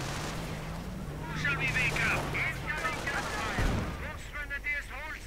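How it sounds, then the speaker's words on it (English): Anti-tank guns and small-arms gunfire crackle through a WWII strategy game battle, a steady spread of shots with a heavier thump near the middle, heard under continuous commentary talk. "once more anti-tank guns firing down on it as well"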